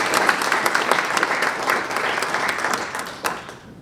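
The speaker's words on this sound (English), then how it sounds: "Let's give one more round of applause." An audience at the 2023 Poetry Out Loud West Central Ohio regional finals applauds a competitor, dense sustained clapping from a full room, loud and steady before thinning out near the end.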